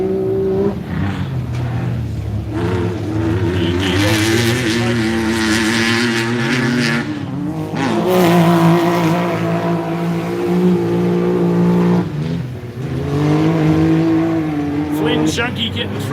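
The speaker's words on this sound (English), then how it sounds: "Just so fast and gripping up these new Can-Am Mavericks." Can-Am Maverick side-by-side vehicles racing, loud engines revving and shifting pitch as machines pass close by, with a commentator talking over them.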